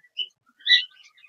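Cockatiels in an aviary setup give a few short, high chirps, one brief call and then a louder cluster of tweets, fairly close with quiet gaps between.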